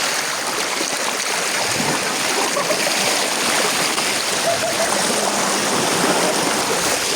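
Water from Khoiyachora waterfall at Sitakunda rushes and splashes in a constant, loud, dense flow, with no break or change throughout.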